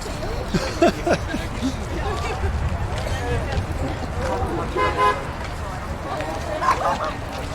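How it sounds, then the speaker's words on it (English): A car horn toots a few times amid traffic noise and background chatter at Comic Con in Troy, Michigan, with voices talking nearby. "honk at us so you can get through"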